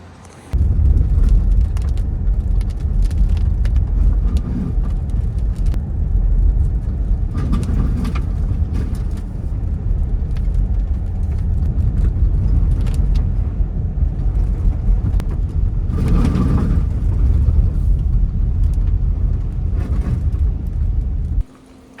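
A Hyundai Ioniq 5 drives on a dirt road in rain and snow, producing a continuous low rumble of tyres on gravel with bursts of louder crunching and spray, heard close without talk.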